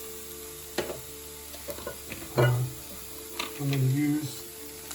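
Sofrito of leeks, bay leaf and cilantro sizzles softly in a pan with occasional stirring scrapes, faint and intermittent beneath a person talking.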